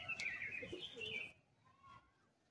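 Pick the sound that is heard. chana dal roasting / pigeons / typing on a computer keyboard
pigeons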